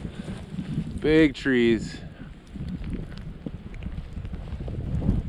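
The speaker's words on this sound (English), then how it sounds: "Ooh, look at the wind, dude." Wind buffets a microphone during powder skiing, producing a steady low rumble with gusting swells throughout, while someone briefly speaks over it.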